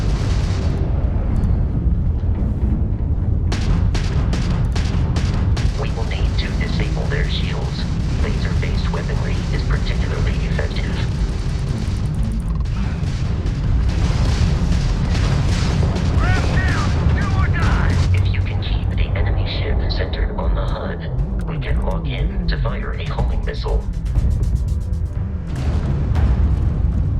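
Starship combat in the Starfield video game against a Crimson Fleet ship, with heavy booms and rumbling explosions mixed with weapon fire, loud and continuous beneath voices talking.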